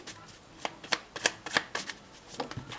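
Tarot cards shuffled for a reading, a rapid series of close, crisp riffling flutters and soft slaps in an uneven rhythm, fairly quiet with no one speaking over it.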